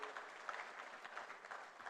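Audience at a foundation conference in Banjul, The Gambia, applauding, a steady, fairly faint wash of clapping with a few sharper claps, heard from a distance.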